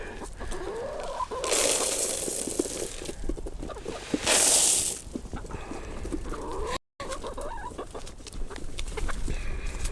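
Chickens on a homestead farm in winter cluck and murmur softly in a flock, with a couple of louder squawks standing out over a continuous low barnyard background; no one speaks.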